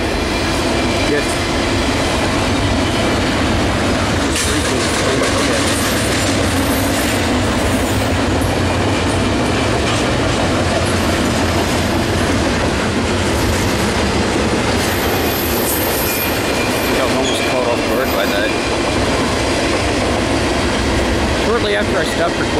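A Norfolk Southern freight train rumbles past steadily at Petersburg for a long stretch, wheels clattering over rails with occasional squeals, loud and close throughout.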